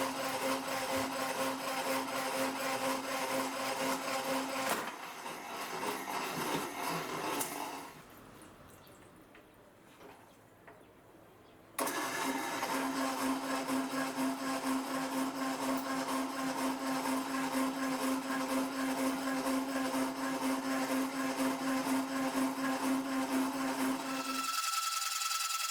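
A power tool cuts through metal pipe for a motorcycle maintenance lift, a loud steady whine that drops away for several seconds mid-cut, then resumes just as strong until it stops abruptly near the end.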